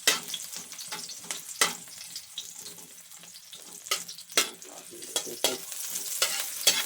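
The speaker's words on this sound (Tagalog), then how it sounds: "Luto na lang bawang." Garlic fries in a pan, with a steady sizzle broken by repeated scraping stirs of a utensil, close and clear, with no talking.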